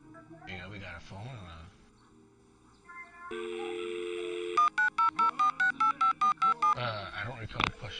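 A phone keypad sends out a quick, evenly spaced run of loud, close dialing tones after a stretch of steady tone, with talk and other sounds around them.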